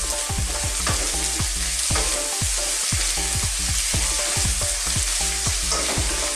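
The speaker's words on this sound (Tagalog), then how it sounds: "Ngayon po maglalagay tayo ng isang pirasong butter. Na-notice nyo po 3 pieces yung butter ko. Lagyan natin muna ng isa. Tapos haluin natin." Butter sizzles steadily in a pan for garlic shrimp while a utensil scrapes and taps the pan in a regular stirring rhythm, close and continuous.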